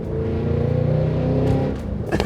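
A 2025 Cadillac Escalade V's big engine revs hard up close, a loud, deep, throbbing rumble that swells, holds and then drops off near the end.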